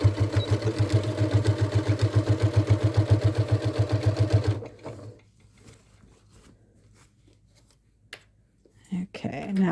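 Sewing machine running steadily for about four seconds, a fast even rhythmic hum, stitching stiff fabric for a Halloween witch hat, then stopping into quiet handling noises.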